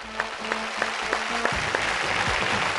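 Studio audience on a Telugu TV game show applauds a winning pair, a few distinct claps at first under a sustained tone, then thickening into steady clapping.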